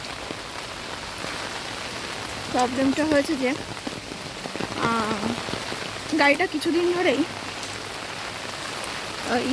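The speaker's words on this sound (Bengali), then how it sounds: "বাইরে বৃষ্টি হচ্ছে মুষলধারে" Heavy rain pours outside in a steady, dense patter on surfaces, close and constant, while a person speaks over it in several short bursts.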